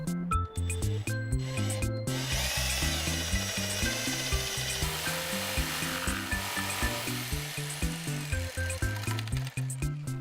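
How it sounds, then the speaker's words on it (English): A jigsaw cuts clearance openings in a racing seat for a DIY Unistrut racing chassis. It is a loud, close, rapid buzzing with a rhythmically pulsing tone that wavers as the blade works through the material, with no talk. "Mark up the clearances and cut them out with a jigsaw."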